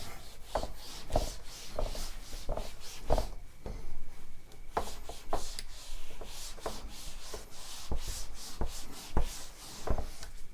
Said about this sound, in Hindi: चलिए इसको मिटाएं।